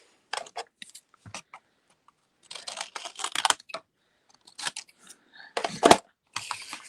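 Greeting-card stock being trimmed with a paper trimmer or cutter: close, irregular bursts of sliding, scraping cuts and small clicks separated by quiet gaps, with no talking.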